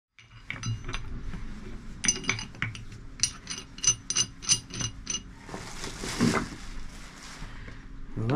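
Old sailing boat rigging blocks being handled: close metallic clinks and ratcheting clicks in quick irregular bursts, with a scraping rattle toward the end.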